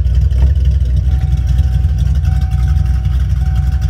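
A 1995 Ford Mustang Cobra R idles steadily up close with a loud, deep, even rumble that holds without revving for the whole stretch.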